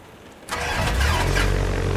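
A Piper Cub engine starts up in a flight simulator game, catching suddenly after a moment of quiet and settling into a loud, steady idle.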